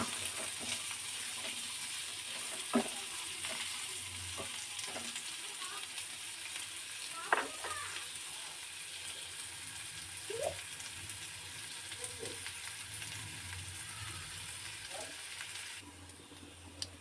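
Soft sizzling of onions frying in a pan, with occasional clinks and stirring scrapes over a quiet, steady hiss.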